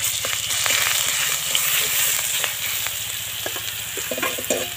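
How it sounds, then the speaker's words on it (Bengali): Garlic paste sizzles in hot oil in a pan that already holds fried dry red chillies, the start of a Bengali rui fish rezala; a loud steady frying hiss with occasional stirring scrapes, no talk. "এখন দিয়ে দেবো রসুন বাটা"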